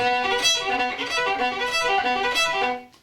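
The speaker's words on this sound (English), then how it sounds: "I can go fast between the notes like this." A bowed string instrument plays a quick run of notes, moving rapidly up and down in a bright, continuous line, close and fairly loud.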